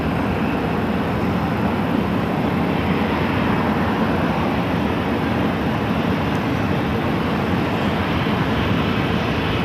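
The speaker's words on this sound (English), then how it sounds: "Another United 737, looks like an 800 pushing back." A United Boeing 737-800 pushes back at Phoenix airport amid a steady, dense rumble of engine and apron noise that stays constant throughout, with no voices.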